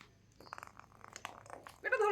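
A cat purrs quietly amid soft rustling and shuffling during play with a ball, ending with a louder tonal cat vocal burst; a person's voice is also present.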